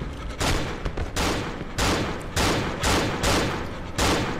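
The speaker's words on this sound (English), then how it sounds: "He's shooting a shit ton of bullets" An enemy fires a heavy stream of gunfire in the Cry of Fear video game, loud, close bursts repeating in a rough rhythm of about six volleys over a few seconds, with no talking.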